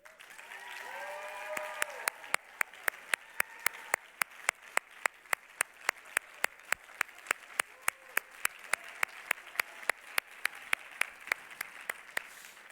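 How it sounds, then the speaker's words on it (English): Applause for graduates at a Class of 2020 high school graduation ceremony: sharp, regular claps ring out steadily for about twelve seconds over a faint murmur of voices early on. "One more round of applause for our graduates."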